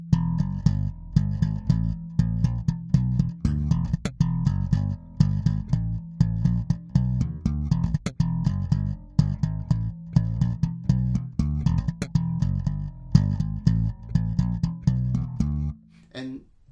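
Slap bass playing a two-bar riff with back slaps, a busy rhythmic stream of punchy thumb slaps and bright popped notes repeating steadily, close and solo, ending with a brief decay.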